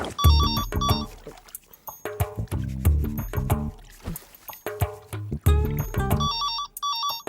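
A telephone rings in a Telugu film scene with a bright, repeating electronic ringtone melody that plays in several bursts, loud and close, with short pauses between phrases.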